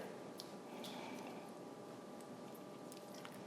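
About two cups of marinara sauce pours from a jar over chicken breasts in a slow cooker, a quiet wet squishing and dripping that runs steadily throughout.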